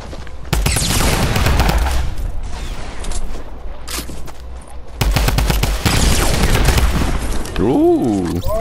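Rapid gunfire bursts in the Fortnite video game, dense and loud through most of the stretch with a brief lull midway, ending in a short rising game sound effect.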